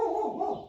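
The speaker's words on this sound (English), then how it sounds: "Sorry about the dog." A dog barks once in a short, loud burst close by in a garage workshop where a Kawasaki Mule is being torn down, with no talk over it.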